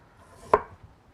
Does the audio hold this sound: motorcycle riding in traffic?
no